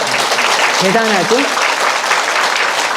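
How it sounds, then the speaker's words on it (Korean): An audience at a Sunday Dharma service in a Buddhist temple claps steadily, a dense continuous round of applause with a voice speaking briefly over it midway. "박수 쳐야죠."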